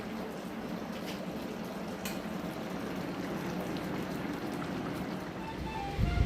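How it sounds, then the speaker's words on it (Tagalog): Strong wind from a storm roars steadily and close in a backyard in Canada, a dense rushing noise with a faint rumble beneath and no pauses. "Grabe yung lakas ng hangin, no?"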